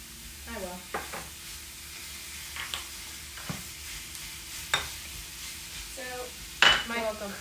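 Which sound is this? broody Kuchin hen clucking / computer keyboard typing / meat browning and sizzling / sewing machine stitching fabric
meat browning and sizzling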